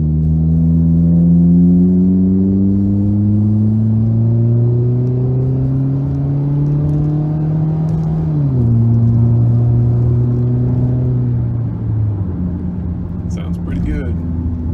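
A 2019 Kia Optima with its muffler deleted accelerates uphill in sport mode. The loud, raspy engine drone climbs steadily in pitch, drops at a gear change, then pulls again.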